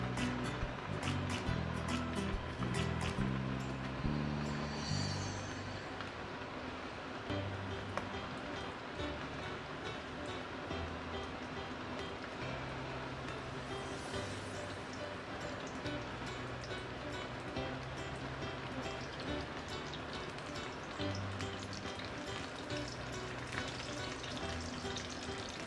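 Pork pieces deep-frying one by one in hot oil for sweet and sour pork, a steady dense sizzle and bubbling that carries on throughout with faint background sounds.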